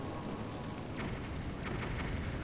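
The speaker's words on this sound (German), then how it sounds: "Und das ganze Haus explodiert." A house exploding in the Zelda: Twilight Princess video game, heard as a dense, continuous rumbling blast with crackling bursts throughout, loud and sustained without any talk.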